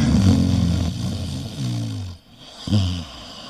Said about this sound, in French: Ils dormaient et ronflaient si fort qu'ils faisaient monter et descendre les branches.